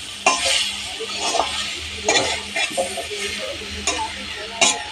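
A prawn curry made with grated coconut is stirred and pressed in a pan as it fries. A spoon scrapes and taps in irregular clicks over a soft, continuous sizzle, close and with no talk.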